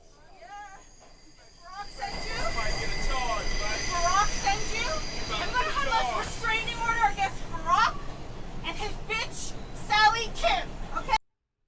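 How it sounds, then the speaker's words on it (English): A subway train rumbles steadily through a tunnel in New York while metal wheels squeal and screech in repeated high, wavering bursts against the track. "the train is going through the tunnel, so the tracks are screeching"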